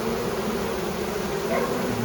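Honeybees buzzing in a hive box while a colony is installed, a steady close drone of many insects that holds evenly throughout without any talking.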